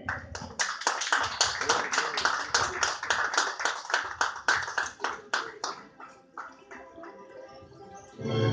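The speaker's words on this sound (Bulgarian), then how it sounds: "щастливото семейство с бурни аплодисменти посрещнете" Wedding guests clap for the newlyweds at a Bulgarian wedding reception, loud rhythmic applause fading into scattered claps near the end.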